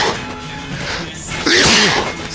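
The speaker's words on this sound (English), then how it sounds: "Oh, I'm gonna sneeze." A brief, sharp sneeze bursts out near the end, close to the microphone, after a moment of quiet background noise and soft voices.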